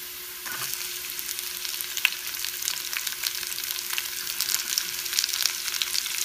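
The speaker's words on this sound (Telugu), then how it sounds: "ఆనియన్స్ కూడా వేగాలి." Sliced onions frying in a pan for a Telugu-style dry onion curry, giving a steady, close bright sizzle with small crackles and occasional stirring scrapes throughout.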